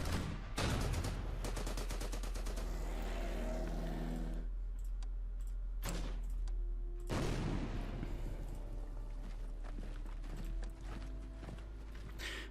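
Artillery and gunfire in the World War II strategy game Order of Battle, heard as rapid clattering bursts of shots and mechanical clicks, loud and dense in volleys with brief pauses between.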